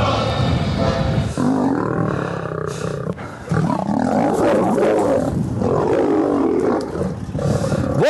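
Lions and tigers roar in deep, rough bursts, loud and close, with one roar overlapping the next and short dips between them.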